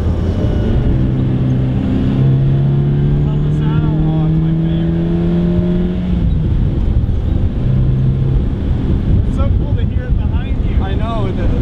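A 1978 Fiat X1/9 accelerates on the road, its engine note climbing steadily and loudly under heavy wind rush while people talk inside the car.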